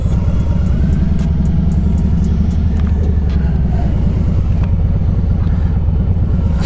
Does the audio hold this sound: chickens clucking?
no